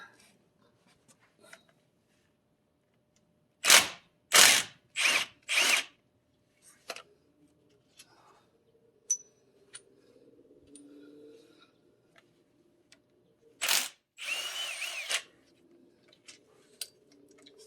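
A power tool on an extension spins off 13mm bolts during a rear differential fluid change, giving a few short loud bursts, then a quiet stretch with faint clicks and a later pair of bursts.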